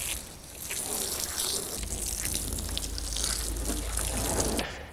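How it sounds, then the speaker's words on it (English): Cold water from a hose rinsing a car, a steady broadband splash and spray that runs continuously, fairly loud and close, with no voices. "Rinse carefully with a hose or more buckets of cold water."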